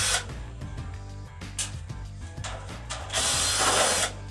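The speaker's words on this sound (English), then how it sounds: "next we will take apart the plenum here to get into the A coil and check the A coil to see if that's clean" Power tool driving screws while an air conditioner plenum is taken apart to reach the A coil, with repeated short whirring bursts and a longer, louder run near the end, close up with no talk.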